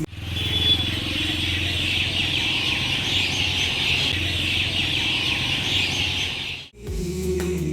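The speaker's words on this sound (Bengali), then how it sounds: "আছে শুধু নদীর ঢেউয়ের আওয়াজ আর পাখিদের ডাক" Birds call in a steady, continuous chorus by a river at Kaikhali in the Sundarban forest, over a low background rumble, with a brief break near the end.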